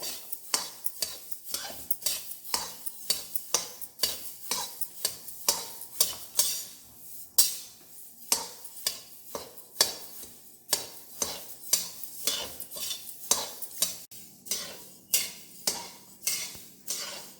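Coriander seeds dry-roast in a pan while being stirred for sambar podi, giving a steady rhythm of crisp scraping and rattling strokes, roughly two per second, close and alone with no voices.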